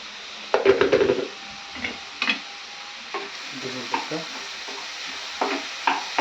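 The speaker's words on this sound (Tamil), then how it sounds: "இப்போ இதை நல்லா சாட் பண்ணணும்." Small onions sauté in a pan for mutton kolambu, a soft sizzle running beneath a few close scraping stirs, with a louder burst of stirring near the start and lighter scrapes after.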